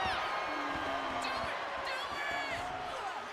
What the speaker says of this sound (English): You can hear the crowd chanting tap out and screaming.